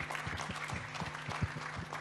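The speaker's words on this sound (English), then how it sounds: "we can clap for her again" An audience at an International Women's Day panel discussion claps for a student leader, a soft, even patter of applause heard at a distance and continuing steadily throughout.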